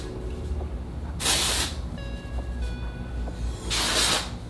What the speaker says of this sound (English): I'm just putting in a dry shampoo.